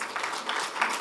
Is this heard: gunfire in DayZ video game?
no